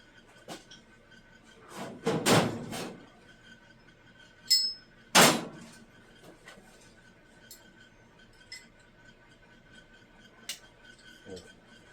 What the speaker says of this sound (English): the chisel that I changed to now has a little bit of a bend in it, and that helps give you that maneuverability in here